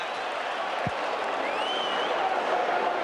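A huge crowd of about 40,000 at Football Park reacts during a 1986 South Australia versus Victoria football match, a broad, distant roar and murmur that holds steady throughout with a brief thud near the start.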